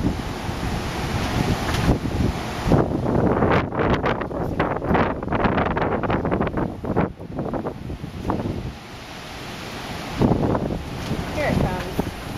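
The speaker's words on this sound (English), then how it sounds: "And another gust will come through and you can see the grass." Strong gusts of wind in a summer storm roar steadily over the grass and buffet the microphone, rising and falling in loud, rushing surges.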